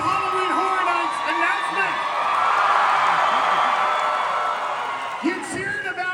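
A large crowd cheers and whoops loudly for several seconds at a Halloween Horror Nights panel at Midsummer Scream, with yells rising and a voice shouting over the roar near the end.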